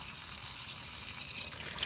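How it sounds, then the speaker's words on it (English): Water trickling and splashing onto soil while a garden bed is watered by hand at a suburban homestead, a soft, steady wash of noise at moderate distance with a slight swell near the end. "I really try to water from the bottom, honestly. But I do wet down the tops."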